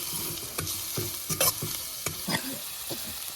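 Chopped onion and green chili fry in mustard oil with curry leaves for a dal tadka, giving a steady low sizzle broken by several short scraping stirs of a spoon in the pan.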